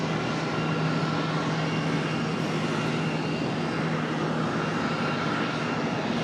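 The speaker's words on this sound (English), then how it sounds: "Planes coming across the taxiway here" Airliners taxi across an airport taxiway, producing a loud, steady engine rumble and hiss that holds constant throughout, fairly close with no voices.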